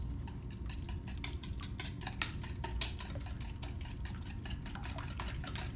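Eggs and salt are whisked together in a bowl for mini herb frittatas, giving quick, steady ticking and scraping of a utensil against the bowl close by. The rhythm continues without pause and no one speaks.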